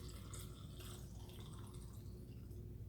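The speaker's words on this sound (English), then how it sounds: "And I'm going to pour the solution" Brine solution poured over tomatoes in a canning jar for fermenting, a steady close splashing trickle of liquid filling glass that runs unbroken throughout, with no voices.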